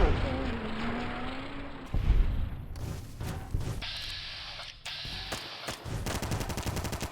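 Gunfire in modded Fallout: New Vegas, with rapid automatic bursts and scattered shots layered over game ambience and crackling effects, loud and continuous through the stretch, with someone talking faintly underneath.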